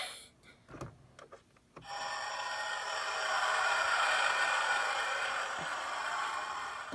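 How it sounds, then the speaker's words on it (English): A few sharp clicks like button presses, then a Star Wars Royal Naboo Starship toy's hyperdrive effect: a steady, loud whooshing rush of noise that holds for several seconds. "That's the sound of the hyperdrive."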